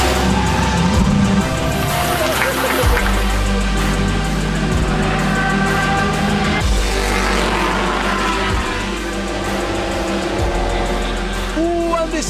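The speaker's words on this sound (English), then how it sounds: "This is a big crash, massive crash." Touring cars crash during an endurance race at Balaton Park: loud, continuous engine roar with skidding and several sharp, heavy impact bursts spread across the passage.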